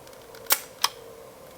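A favorite film camera's shutter fires twice in quick succession, two sharp close mechanical clicks about a third of a second apart in a quiet room.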